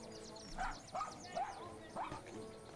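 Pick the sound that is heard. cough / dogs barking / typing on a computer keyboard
dogs barking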